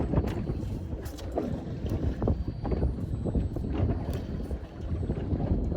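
Strong wind buffets a small fishing boat out on Botany Bay, a loud continuous roaring rush with gusty surges and rumble, no voices.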